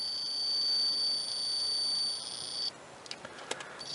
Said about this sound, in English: If there's continuity, you'll hear the buzzer.